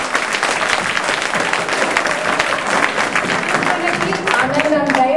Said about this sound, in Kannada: ಅವ್ರಿಗೋಸ್ಕರ ಒಂದು ದೊಡ್ಡ ಚಪ್ಪಾಳೆ